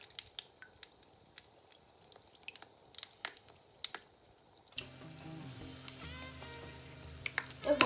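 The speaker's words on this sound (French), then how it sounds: "il faut frire jusqu'à ce que ça soit doré" Potato croquettes deep frying in oil until golden: faint popping bubbles and small crackles, growing into a denser, louder sizzle midway with a few sharp pops near the end, no talk.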